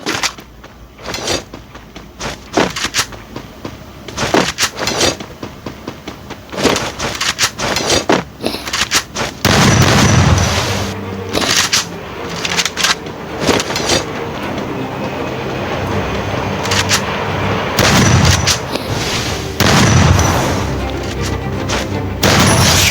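M1887 shotgun fired repeatedly in an online shooter game, loud booming blasts and rapid cracks packed close together over continuous game noise, with some talking mixed in.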